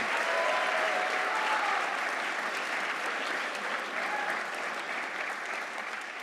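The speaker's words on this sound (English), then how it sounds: "So everybody give a round of applause for Ms." A large audience applauds at a swimming awards ceremony, a loud, sustained wash of clapping that fills the room and fades slightly toward the end, with a few voices faintly mixed in.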